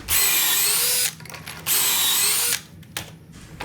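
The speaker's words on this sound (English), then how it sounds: "I'm going to lock my board into the Kreg Jig and drill 2 holes." A power drill whines loudly in two sustained bursts, each about a second long, boring pocket holes in a wooden board held in a Kreg Jig, with a brief lull and clatter between them.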